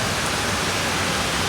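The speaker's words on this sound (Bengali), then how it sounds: "অনেক জোরে জোরে বৃষ্টি হচ্ছে মতিঝিলে।" Heavy rain pours down on a street in Motijheel, Dhaka, a loud, dense, unbroken hiss filling the whole moment with no voices or other sounds.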